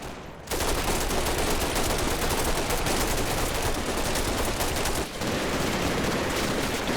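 Heavy gunfire rolls on without a break from a flanking position in the Combat Mission WWII battle of Operation Epsom, a dense, loud battle din that stays constant with only a brief dip near the end.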